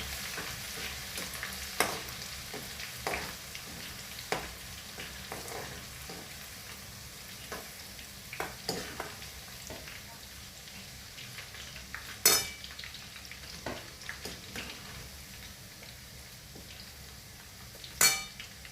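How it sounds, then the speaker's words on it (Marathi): Crushed garlic and cumin roast in a pan for chivda. A quiet, low sizzle runs throughout, with sparse scrapes and a few sharp clinks of a spoon against the pan, and no speech. "आणि लसूण पण चांगला भाजून घ्यायचा."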